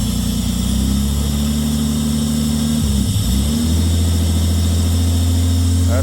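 Engine of an old Australian car idling loudly after a restart with fresh fuel, a steady close rumble that dips briefly midway as the throttle cable is released, then settles back into an even idle.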